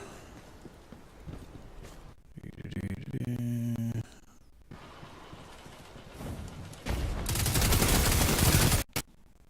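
Destiny 2 gameplay with loud, dense bursts of weapon fire and a roaring blast of noise that covers the latter part before cutting off abruptly.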